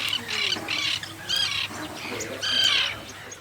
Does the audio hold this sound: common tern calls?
yes